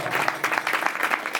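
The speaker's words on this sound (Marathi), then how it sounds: "जोरात टाळ्या वाजवा." An audience at a Warkari devotional singing gathering claps loudly, producing a short, dense burst of steady applause.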